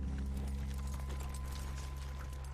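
Horse hooves clip-clop in a video game, a quick steady run of close hoofbeats heard alone over a low hum.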